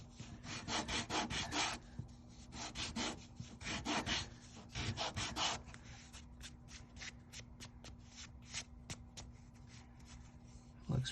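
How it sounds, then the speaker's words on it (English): The edges of a leather guitar pick case are sanded in repeated quick rasping strokes, first in dense back-and-forth bursts and then in lighter, sparser single passes, close and alone with no talk. "I will sand this just to get the edges evened up"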